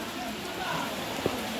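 Rain falling steadily on a surface, a dense, close hiss of drops throughout, with a faint voice and a brief thump near the end.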